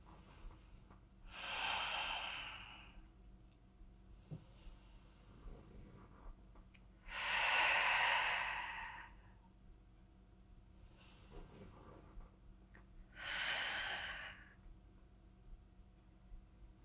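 During a core workout on a mat, three long, strong breaths through the nose are spaced several seconds apart, close and fairly loud, with quieter breathing and faint rustling between them.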